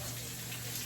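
Running tap water pours steadily over peppers and tomatoes being washed in a home kitchen, a continuous close gushing rush that holds for under a second.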